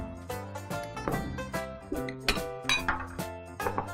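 Beef being stirred in a bowl with soy sauce, sugar and wine as a marinade, a run of light clinks and scrapes of utensil on dish at a steady rhythm, close by, with no voices.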